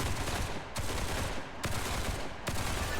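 Gunfire in a shooting challenge minigame in the video game Duet Night Abyss, several quick shots in a rhythmic series over dense game sound.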